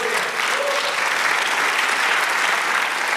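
A church congregation claps in dense, even applause during a Spanish-language sermon, loud and continuous without a break.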